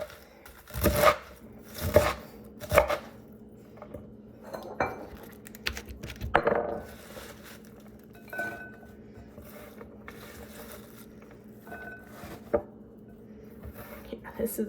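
Knife chopping a big cabbage into thin slices on a board, with sharp rhythmic cutting knocks in bursts, some soft clatter, and speech heard faintly in between.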